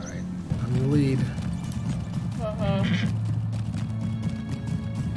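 Horse hooves clip-clop at a steady pace while riding in the Lord of the Rings Online game, with a brief whinny early on, all under people talking.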